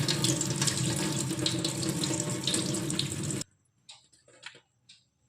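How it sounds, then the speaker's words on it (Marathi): Water pours steadily off soaked rice and lentils for a few seconds, then stops abruptly, leaving sparse drips and small trickles. "तर यातील आता आपण पाणी काढून घेऊ"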